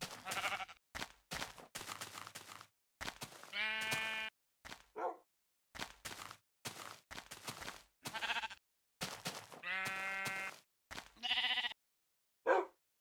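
Repeated bleats from a pink sheep in a video game, short bursts separated by brief pauses, some long and wavering, others quick and clipped, heard clearly without other sounds.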